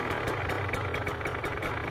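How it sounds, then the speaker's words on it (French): KTM 125 two-stroke fuel-injected 2023 motorcycle running just after an electric-start, a steady buzzy idle with a regular pulsing beat, close and continuous for the whole stretch. "Ça fait bizarre de démarrer une 125 comme ça"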